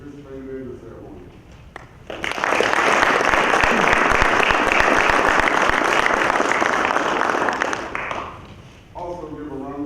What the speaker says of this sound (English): Please join me in a round of applause for the team of soldiers who assisted in with setting up today's ceremony